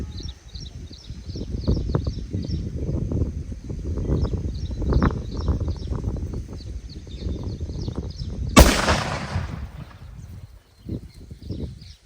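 A Rocky Bhai nattu vedi firecracker bursts with one sharp, loud bang late on, after a stretch of crackling outdoor background noise, and faint popping trails off afterward.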